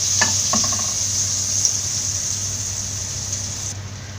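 A piece of butter melts and sizzles in a hot pan on the stove, a steady close hiss with a few soft knocks at the start, then easing near the end.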